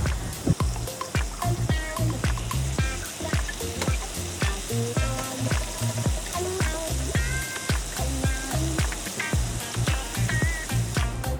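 Eggs with whole yolks fry in about half a tablespoon of oil, giving a dense, continuous sizzle with sharp crackling pops throughout, close and steady with no voices.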